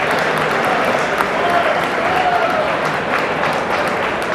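Steady applause from a room of bidders at a charity auction after a lot sells for 15,000, with a murmur of voices mixed into the continuous clapping.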